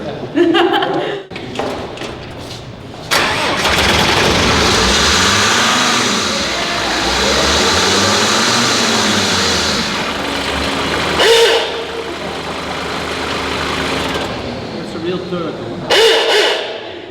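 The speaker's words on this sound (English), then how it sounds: "I suggest we start by firing up the car." A car is started up and its engine runs steadily at an exhibition, with a low rumbling drone that rises and falls in pitch as it revs, sudden thumps at start and near the end, and people talking around it.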